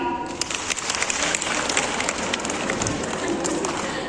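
A seated audience claps along at a spiritual talk on inner stability, a dense, continuous patter of hands at moderate volume with a murmur of crowd noise underneath.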